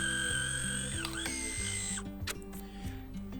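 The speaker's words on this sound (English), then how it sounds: "I just crank that up and the film gets thrown out" A MiNT InstantKon RF70 instant camera is cranked by hand to eject Instax Wide film, giving a close, continuous ratcheting whir of gears and pawl clicks.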